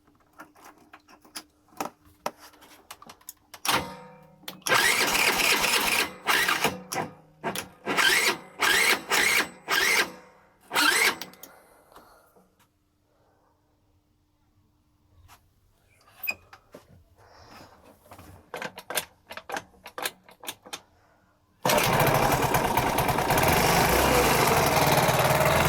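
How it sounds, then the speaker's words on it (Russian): A small four-stroke scooter engine cranks and sputters, catches in repeated bursts, dies back, then roars into steady, loud high-revving running near the end. "Запускаем двигатель."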